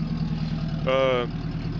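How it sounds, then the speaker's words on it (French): A 1950 Buick with its long straight engine idling steadily, a low continuous rumble close by, with a brief tonal whine rising over it midway. "le moteur, il a démarré impeccable et puis il tourne impeccable"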